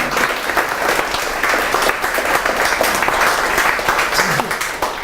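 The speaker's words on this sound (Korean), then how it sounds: "두 번째 박수를 한번 뉴욕으로 보내겠습니다" Audience applause at a Korean book talk on Seth Godin's 'The Icarus Deception', a steady wash of many hands clapping that stays dense and even throughout, with a faint voice underneath.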